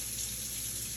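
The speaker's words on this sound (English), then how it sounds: "So I just put a little water on it" Water poured or splashed onto a splash-and-go sharpening stone, a brief steady wash of running water heard close and alone.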